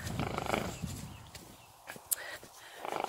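A horse walking down to a field on a misty morning gives a few breathy snorts amid soft hoof and ground noise, close by and fairly quiet.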